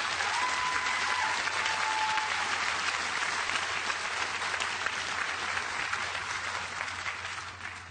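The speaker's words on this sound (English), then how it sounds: "Stand up, family, so we can give you a round of applause." A commencement crowd at a university ceremony breaks into sustained, dense applause, loud and even before slowly tapering at the end.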